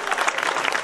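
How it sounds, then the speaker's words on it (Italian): A short burst of dense audience clapping for a priest at a gathering of a town band association, many hands close together with no voices. "Lo facciamo un applauso a Don Franco?"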